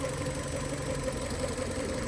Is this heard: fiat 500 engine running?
yes